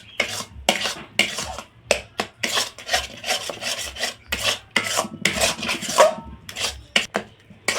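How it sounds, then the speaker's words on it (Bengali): A spoon stirs potato and gram flour batter in a wok over low heat, giving quick, repeated scraping rasps in an uneven rhythm, close and fairly loud, with no talk. "দিয়ে একদম কম হিটে এটা অনবরত নাড়তে থাকবো"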